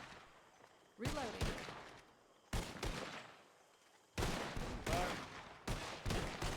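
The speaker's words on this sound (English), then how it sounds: "You're still taking fire from the building" Shootout in the GTA V roleplay server Wild RP, gunfire in four separate bursts of rapid overlapping shots and volleys, some near and loud, others more distant, with quieter ambient gaps between them.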